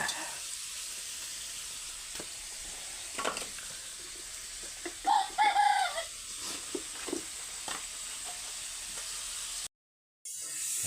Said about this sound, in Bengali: দেখেন মুরগিটাকে আপনি ডাক দিছে